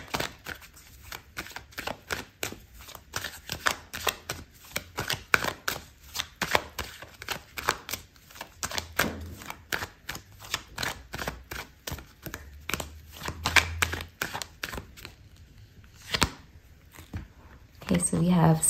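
Tarot cards being shuffled and pulled, a long stream of dense, crisp papery flicks and taps, close, running under a person talking.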